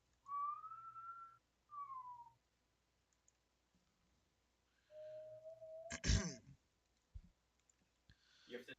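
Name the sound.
whistling imitating speech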